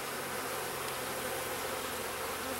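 Honeybees buzzing steadily in a nuc hive during an inspection, a close, dense and continuous drone of many small, dark bees with no talking.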